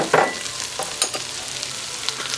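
Garlic and two tablespoons of flour cook in a pan for chicken paprikash, giving a close, steady sizzle and fry with a few brief scraping stir sounds.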